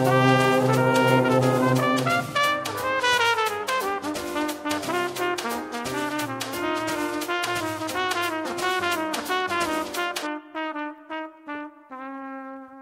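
A trumpet plays a bright, busy melodic line in a live hip-hop performance at KEXP in Seattle, loud and continuous over a full band, ending in a run of separate sustained notes.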